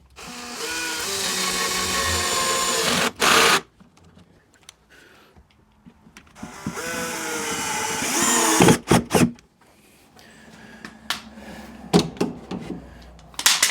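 A power drill drives screws into plywood in two loud, sustained whirring bursts separated by quiet, followed by scattered knocks and clicks of handling.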